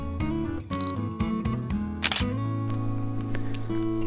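A Nikon Zfc APS-C mirrorless camera fires its shutter once for a photo of plum blossoms, a single crisp click near the midpoint standing out over steady tonal background music.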